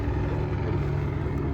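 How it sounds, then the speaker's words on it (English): Steady low rotor-like drone of a helicopter flying outside, continuous and moderately distant, with no speech. "Helicopter driving around."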